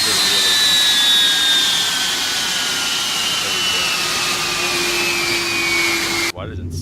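Rolls-Royce jet engines of a Boeing 757-200 in a Flight Factor flight simulator give a loud, steady roar with high whining tones that slowly drop in pitch, then cut out briefly just before the end.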